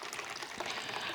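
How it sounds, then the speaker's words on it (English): A pineapple martini poured from a cocktail shaker, a brief steady splashing stream of liquid at close range with no talk. "we're going to go ahead and pour our pineapple"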